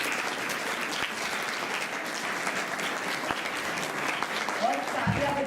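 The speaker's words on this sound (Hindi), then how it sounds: "सर के लिए जोरदार तालियां बजाइए।" Sustained applause from an audience at a Rajyoga meditation seminar, steady dense clapping throughout, with a voice faintly entering near the end.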